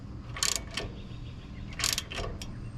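Snap-on ratchet wrench tightening a fitting during service of a John Deere X570 garden tractor, giving two short bursts of quick ratcheting clicks with a fainter click between, close by over a quiet background.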